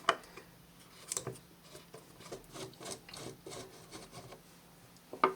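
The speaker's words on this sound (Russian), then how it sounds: "Для этого нужно открутить всего два винта." A screwdriver backs out the screws on the case of a DP-5A military radiometer, giving faint, close scraping and creaking turns with scattered small clicks at an uneven pace.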